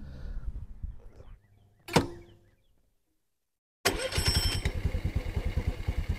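A 2022 Honda Navi scooter with its variator cover off gives a short clunk, a silent pause, then fires up loud and close into a fast, lumpy, pulsing idle.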